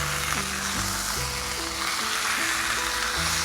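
A ribeye steak sizzles steadily in a cast iron pan, a close, continuous hiss and crackle holding at an even level for the whole stretch, with no voices over it.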